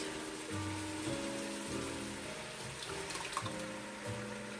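Jarred roasted red pepper Alfredo sauce glugs steadily from the jars into a pot holding chicken, sausage and meatballs, a continuous wet pouring and bubbling sound, close and moderately loud without talk.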